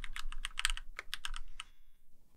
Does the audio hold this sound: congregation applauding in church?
no